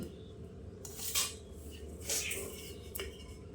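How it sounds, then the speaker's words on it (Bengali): A serving spoon scrapes and clinks against a cooking pot and plate as rice is dished out, a few light metallic knocks up close. "ভাতটা হাঁড়িতে তুলতে হবে"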